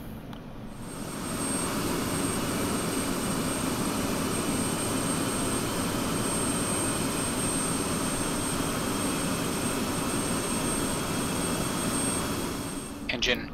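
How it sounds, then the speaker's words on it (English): F-16C Viper jet engine spooling up in the DCS flight simulator, a loud steady roar with a high whine that builds over the first two seconds and holds evenly before dropping off at the end. "Engine online."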